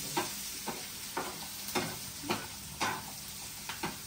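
Chilli and curry leaves fry in hot oil with a steady sizzle, while a spoon stirs the pan in periodic scraping strokes roughly every half second, close and clear.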